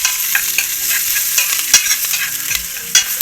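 Asafoetida (hing) frying in a pan while being stirred, with a steady close sizzle broken by spatula scrapes and taps against the pan, without talk.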